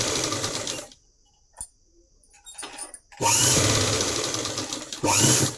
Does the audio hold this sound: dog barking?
no